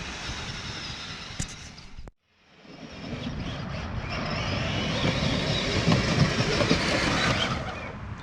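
An RC Grave Digger monster truck with a fast motor whirs and roars in a steady, building electric whine and rumble, briefly cut off then returning louder and sustained, fairly close, without speech.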